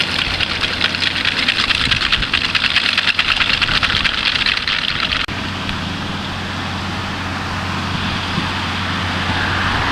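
John Deere 6630 tractor engine running steadily at close range with a strong low hum, rougher and busier for the first half before settling into an even drone, with wind noise over it.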